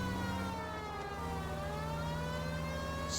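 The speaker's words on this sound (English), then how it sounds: "This seems like a good time for the siren, don't you think?" A wailing police car siren in LA Noire, rising and falling in pitch over a steady engine hum, loud and continuous with no talking.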